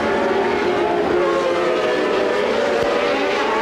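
Formula 1 race cars scream around the 1981 Spanish Grand Prix circuit, a steady, loud, high-pitched engine wail held throughout.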